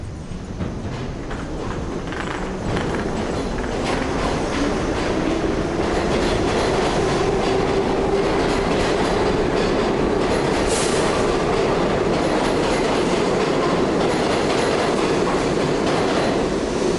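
A metro train runs steadily on its rails, a continuous loud rumble with rhythmic clickety-clack and a brief wheel squeal midway, with no talk over it.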